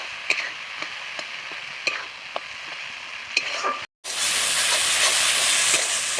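Chopped tomatoes and salt go into a pan for a Bengali tel koi fish curry, light stirring clicks and a gentle sizzle first, then a sudden loud burst of hissing frying after a brief gap.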